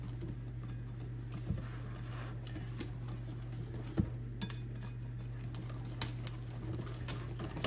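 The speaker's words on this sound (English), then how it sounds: "You want to get this all stirred, get all the lumps out of it, or as many as you can." A spoon stirs peach cobbler batter made with flour in a mixing bowl, giving a quiet, steady scraping with a few soft clinks against the bowl.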